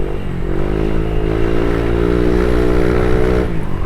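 Honda Click 125 scooter with a super stock setup accelerating hard with a heavy rider, a loud, steady engine drone whose pitch climbs smoothly and then eases off near the end, heard close up with no talking.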